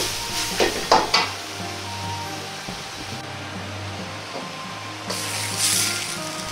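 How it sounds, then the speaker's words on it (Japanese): Eggs being stirred into a mapo chive mixture in a frying pan, with soft sizzling and a few scraping clinks of the utensil against the pan at close range, no talking. "ゆっくりと混ぜ合わせれば完成です。"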